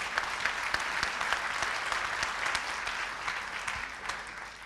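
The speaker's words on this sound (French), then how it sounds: "Et on peut l'applaudir lui aussi." Dense audience clapping at a tourism presentation event, a steady even patter of many hands sustained throughout, moderately loud and without talk.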